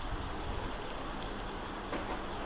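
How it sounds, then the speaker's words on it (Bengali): Chopped onions frying in hot oil in a wok, a dense steady sizzle and crackle close up throughout, with no voices. "পেঁয়াজ কুচিটা আমি লাল লাল করে ভেজে নেব"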